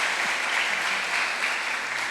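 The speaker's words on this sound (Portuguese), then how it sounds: "Aplaude também, por favor, aplaude" Church congregation applauding a pastor's family during a service: dense, steady clapping from many people close by, with no talk over it.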